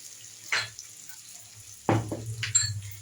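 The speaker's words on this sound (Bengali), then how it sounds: "এর সঙ্গে পেঁয়াজটা ভাজা হচ্ছে।" Onion frying in Amul butter in a pan makes a soft, fairly quiet sizzle, with a few short bursts of stirring and scraping.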